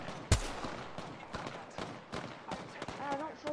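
Gunfire in Apex Legends, opening with one sharp, loud shot followed by fainter, scattered shots and game noise, and a voice talking toward the end.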